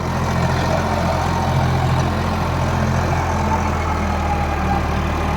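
An Eicher 551 Prima G3 tractor engine runs at a steady, loud idle, a continuous low diesel drone that holds even throughout with no voices.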